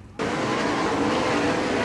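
Sprint race cars at Wayne County Speedway, a dirt oval, roar in loudly after a brief quieter lead-in, a dense steady engine wash filling the rest of the moment.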